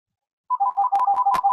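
Telephone ringing indoors, an electronic warbling ringtone starting after a short silence and repeating in quick close bursts.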